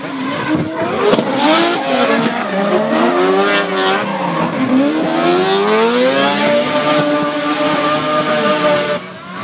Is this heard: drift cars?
yes